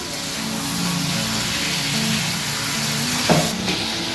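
Chicken pieces frying in a pan and being stirred, a loud continuous sizzle with steamy hiss and a brief clatter of stirring near the end.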